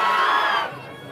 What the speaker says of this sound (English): The crowd's calling for it.